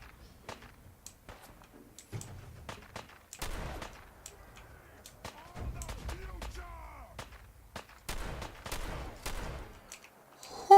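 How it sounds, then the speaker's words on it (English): Rocket launcher fire in a Fallout game: scattered sharp cracks and heavier thumping blasts at irregular intervals, some distant, some close, with sparse gunfire between them. "So that's where the rocket sounds were coming from."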